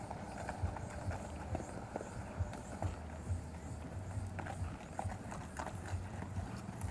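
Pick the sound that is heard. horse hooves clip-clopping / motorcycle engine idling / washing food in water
horse hooves clip-clopping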